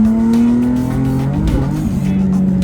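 A loud Nissan 350Z drift car engine revs with a droning, throaty tone, its pitch rising and shifting, with a brief tire squeal partway through.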